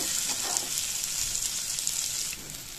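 A paste of black cumin, ginger and green chilli sizzles in hot oil, a dense continuous close-up hiss that eases slightly near the end.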